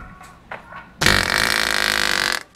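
A loud, close fart bursts out and rattles on for over a second as a rough, buzzing blast, preceded by a few faint, scattered noises and cut off abruptly at the end.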